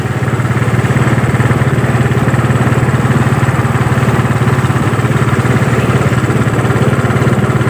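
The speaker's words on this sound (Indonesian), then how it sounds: "jadi di bagian motor sudah menyala" A Yamaha Mio Sporty motorcycle engine with a leaking membrane runs at idle close by, giving a loud, even, steady chugging hum with no pauses.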